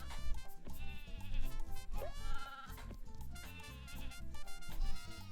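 A wavering sheep bleat from the Sega Saturn game Croc: Legend of the Gobbos rises briefly around the middle, half buried in continuous upbeat game music, with no voices.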